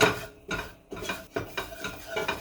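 A utensil stirs butter and herbs in a pan on the stove, with several scraping, clinking strokes against the metal at an irregular pace, close-up with a faint sizzle and no talk.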